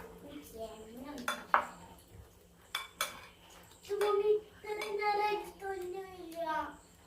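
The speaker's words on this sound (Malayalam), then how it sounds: "നമുക്കിത് ചട്ടി വെച്ചിട്ട് ഇതിലേക്ക് എണ്ണ വെച്ച് കൊടുക്കാം." Kitchen clatter as a pan is set down on the stove and oil goes in for chicken Manchurian, with sharp metallic clanks and scraping of utensils, and voices heard faintly at times.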